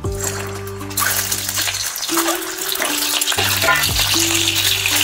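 Scored boiled eggs dropped into hot oil in a kadhai: after a quiet first second, a loud, dense frying sizzle bursts up and keeps crackling steadily, with music playing underneath.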